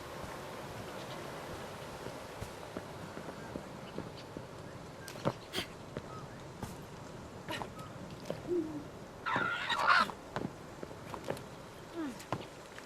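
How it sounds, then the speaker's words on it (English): Birds hooting in the video game Creatures of Ava, faint scattered calls over a low ambient background, with sporadic footstep-like taps and a slightly louder cluster of calls partway through. "Oh wait, birds!"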